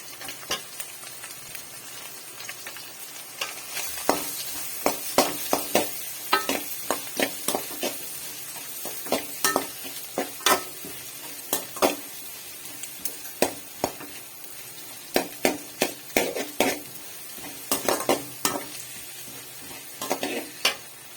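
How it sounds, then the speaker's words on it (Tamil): Sliced onions sautéing in a hot pan for homemade noodles, a steady sizzle broken by frequent sharp clinks and scrapes of a ladle against the metal, close and fairly loud, with no talking. "ரெண்டு வெங்காயம் கட் பண்ணி வச்சுருக்கேன் அது கூடவே சேர்த்து வதக்கிக்கலாம்"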